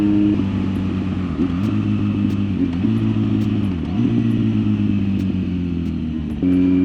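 A Kawasaki Z900 motorcycle with the airbox removed and a Leo Vince exhaust rumbles loudly and steadily while riding, with a droning engine note that dips and rises slightly as the throttle changes, close and with no talking.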